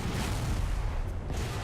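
Artillery fire in the video game War Thunder, a dense low rumbling boom sustained across the short moment, close and heavy with no voices.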